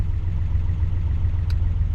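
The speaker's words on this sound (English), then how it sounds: "Idling around 800 RPM." A Datsun 280Z with fuel injection idling around 800 RPM, a steady low, even engine rumble close by with no change in pace and a faint brief click near the end.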